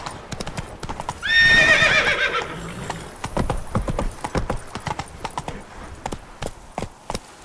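Roach, a horse in The Witcher 3 video game, gallops with rapid rhythmic clip-clop hoofbeats and lets out a loud whinny early on, close and clear under a soft game background.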